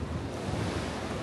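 Strong wind blasting across a snowy Taebaeksan mountain slope, a dense, continuous roar pressing close against the microphone with no pauses.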